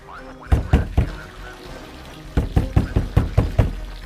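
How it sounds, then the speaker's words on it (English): Someone knocks on a door: three firm knocks, a pause, then a faster, harder run of about six knocks, close and loud. "Linda reached the door first and knocked. Then knocked again, harder this time with urgency."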